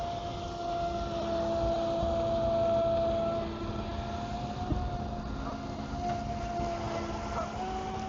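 A ProBoat SonicWake 36-inch V2 RC boat runs at full throttle on water, giving a steady, continuous motor whine with a droning hum that holds at an even level throughout, with no talking.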